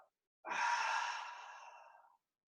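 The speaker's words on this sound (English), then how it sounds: "and breathe out." A single deep breath out during mindful yoga, an airy sigh starting abruptly after silence and tapering off over under two seconds, close and isolated.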